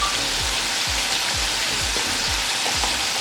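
Chicken karahi frying with black pepper, cumin, turmeric, garam masala and whole green chillies, a loud, close, continuous sizzle with a rhythmic series of low thumps roughly every half second beneath it.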